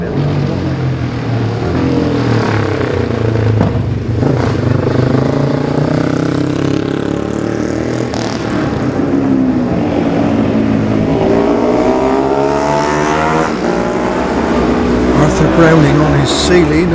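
Racing motorcycles of the Classic TT junior race, including 250 machines and Hondas, roaring past loudly in a rush with rising and falling engine pitch, under continuous race commentary.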